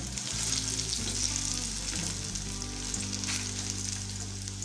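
Raw banana (vazhakkai) cutlets fry in a pan, producing a steady close sizzle with fine crackling over a low constant hum, with no voices.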